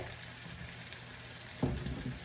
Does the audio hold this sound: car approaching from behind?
no